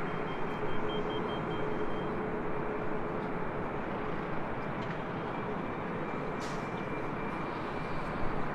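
Steady broadband jet roar of a Southwest Airlines Boeing 737 MAX 8 in flight on Flight 865 bound for Dallas Love Field, a constant cabin drone filling the whole stretch with faint tonal hums and no voices.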